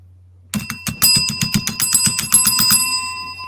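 A bell on a game show rings rapidly in a loud rattling trill that lasts about three seconds, close and bright, marking the end of a round.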